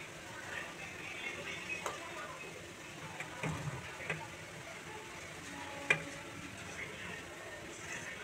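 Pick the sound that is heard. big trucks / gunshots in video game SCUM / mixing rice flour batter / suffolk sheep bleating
mixing rice flour batter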